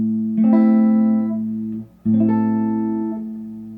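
Two sustained guitar chords from a song ring out one after the other, each with a melody note on top, the first fading before the second is struck.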